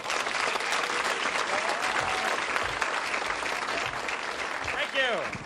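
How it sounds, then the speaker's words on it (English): A comedy club crowd in Austin keeps up dense, sustained applause, loud and continuous throughout, with a faint voice rising near the end. "Keep a nice applause going for Louie, ladies and gentlemen."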